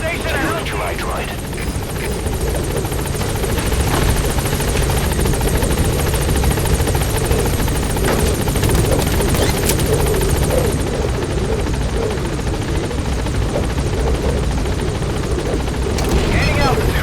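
A helicopter gains altitude in Metal Gear Solid V, its rotor thrum and turbine whine steady and loud throughout, with a voice speaking over it.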